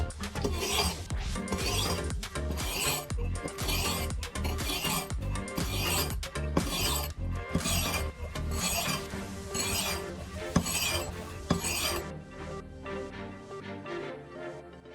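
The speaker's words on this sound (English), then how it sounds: "Repeat the same process, wet the stone, use the coarse side, then finish with the finer side." An axe blade scrapes repeatedly across a wet whetstone, first on the coarse side and then the finer one, in a steady rhythmic rasp of strokes close up that cuts off near the end.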